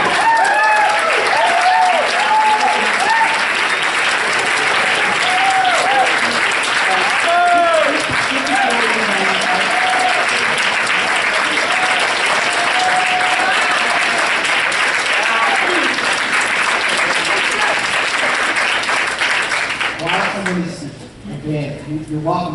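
Applause from the crowd at an NRC public meeting about the Indian Point nuclear plant, a long dense clapping wash mixed with a voice talking over it, fading out near the end.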